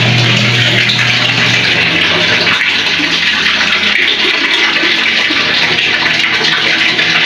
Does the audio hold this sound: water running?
yes